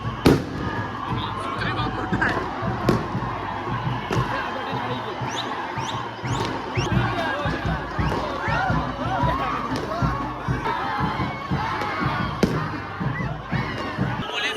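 Firecrackers burst over and over in a dense, crackling barrage throughout a street celebration after India's World Cup win, with crowd noise and voices mixed in.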